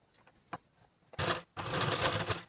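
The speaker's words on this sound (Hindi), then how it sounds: "यहीं पर हमें सीधी सिलाई लगा लेनी है" A sewing machine runs a straight seam on a katori blouse, two short close bursts of whirring stitching separated by a brief pause, after a few light taps and clicks.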